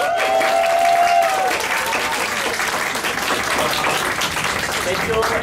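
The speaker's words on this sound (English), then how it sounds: "Can I ask for applause" Audience applause following a theater performance at a poetry slam event, steady clapping with some cheering or voices mixed in, holding at a fairly even loudness throughout.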